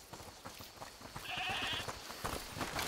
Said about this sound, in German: Hört mal, ist das die Ziege, die er meinte?